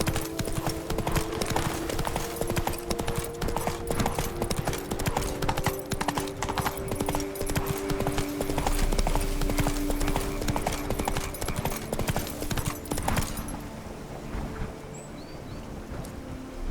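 Roach the horse gallops in The Witcher 3, a steady rapid clip-clop of hooves running on for most of the stretch before dropping away, leaving quieter ambience near the end.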